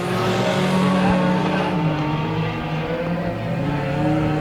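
Mini stock race cars lap Bakersfield Speedway, engines roaring loud and close in a sustained, slightly wavering drone as they run at full throttle.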